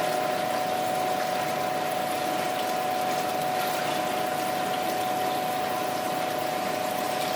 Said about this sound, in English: I'm going to siphon it out of this bucket now